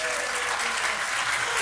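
A church audience at an evangelism festival service claps together in a dense, steady burst of applause that fills the room.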